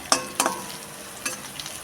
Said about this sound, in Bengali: ফোড়নে দিয়েছি 5 ফোড়ন আর শুকনো লঙ্কা আর হচ্ছে রসুন থেতো করা